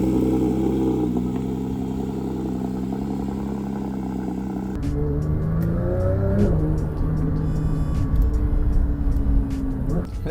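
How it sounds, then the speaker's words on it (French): A Porsche 911 GT3 of the 992 generation drives on the road, its exhaust droning steadily and then rising into a louder, harder-edged note as the revs build, heard from inside the car with occasional talk. "Le son de l'échappement, on l'entend super bien."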